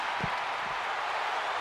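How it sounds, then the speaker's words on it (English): Roaring arena crowd from the WWE 2K22 wrestling video game during a WrestleMania simulation match, a dense, loud, steady wash of cheering that fills the whole short stretch. "The sound of this crowd is deafening, and he's asking for more."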